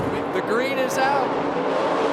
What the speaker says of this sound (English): NASCAR Craftsman Truck Series racing from Charlotte.